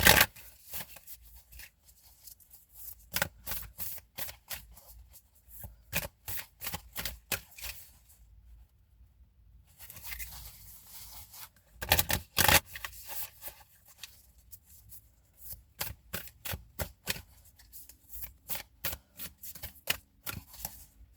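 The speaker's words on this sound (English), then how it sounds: "we will do a one card pull from the Black Moon astrology cards" Black Moon astrology cards are shuffled up close in quiet bursts of rapid riffling flutters, separated by short pauses, with no voices.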